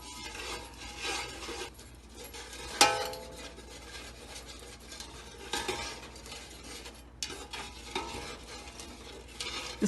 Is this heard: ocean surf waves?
no